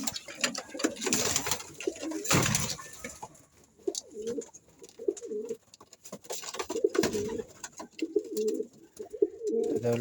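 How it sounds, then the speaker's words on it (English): Pigeons coo in a flock kept with their young, repeated soft throaty coos in a loose rhythm from close by, mixed with wing flutters and scattered rustling noises. "I don't like when pigeons do that"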